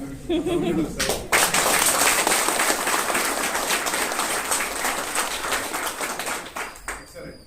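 An audience breaks into loud, sustained clapping that swells quickly and tapers off gradually over several seconds.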